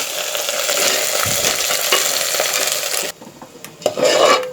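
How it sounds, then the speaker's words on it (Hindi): Ginger and garlic stirred and fried in a pan for koftay, a loud continuous sizzle with scraping stirs that suddenly drops to a quieter hiss, then more scraping and a brief burst of frying. "अब मैं इसको चलाऊंगी, अदरक लहसुन डाल के इसको थोड़ा सा भूनेंगे।"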